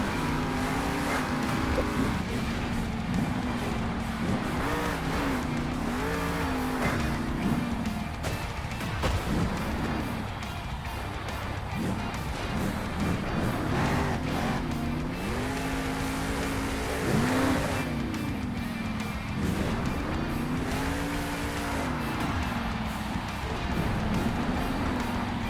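Monster truck engines roaring during a Monster Jam freestyle run at an Indianapolis arena, a loud continuous revving that rises and falls in repeated swells over crowd and arena din.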